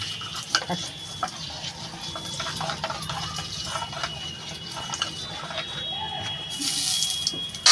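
A mustard-based sour sauce simmering in a pan gives off a steady, soft bubbling and light sizzle, with occasional stirring clinks and a brief brighter splash near the end.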